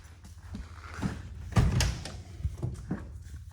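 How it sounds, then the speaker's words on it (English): The door of a 1966 Chevy Nova being opened, a dull close thunk and latch clunk with low rumbling handling noise around it and no talking. "Go over here and open this door"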